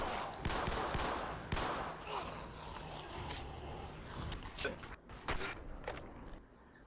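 Gunfire and shots from the zombie shooter The Walking Dead: Survival Instinct in Herd Mode, a dense run of sharp cracks, strongest in the first two seconds, then sporadic pops over a busy game background.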